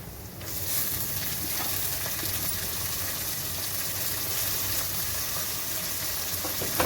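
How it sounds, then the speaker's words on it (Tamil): Continuous sizzling and frying from a pan up close as chopped mint and coriander sauté, with occasional stirring scrapes, steady and fairly quiet, no voices. "புதினா கொத்தமல்லி சேர்த்து நல்லா வதக்கிக்கலாம்."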